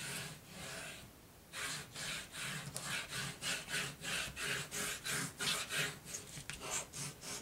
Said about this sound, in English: then we're going to burnish